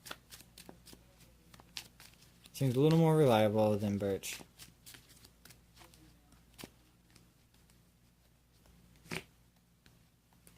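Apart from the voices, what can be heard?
shuffling Pokémon trading cards into the deck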